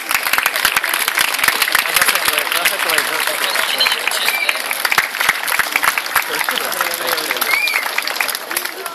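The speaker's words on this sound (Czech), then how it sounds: "poprosil o potlesk" At a school graduation ceremony marking the last day for a ninth-grade class, an audience applauds loudly and steadily for a teacher, with dense, sustained clapping from a large crowd throughout.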